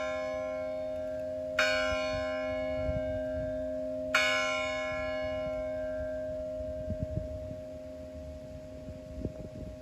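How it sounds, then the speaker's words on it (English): A large bell-tower bell tolls twice with a long ringing decay, heard from a distance over a steady low hum. "The bell rang 3 times."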